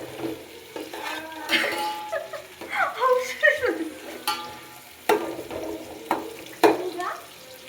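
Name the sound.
frying food in pan for chicken biryani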